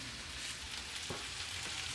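Packed hash brown potatoes frying in a pan for a full English breakfast, giving a constant bright sizzle with no pauses and no voices over it.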